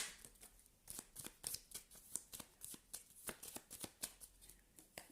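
Tarot cards are cut and shuffled up close, with quick rhythmic riffling flicks and snaps repeating throughout, soft and unaccompanied by talk.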